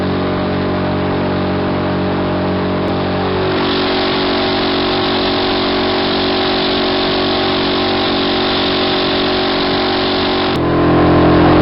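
A Suzuki DF 6 outboard motor drives a boat with a steady, close, loud drone, shifting slightly in pitch about a third of the way in and again near the end. No one speaks.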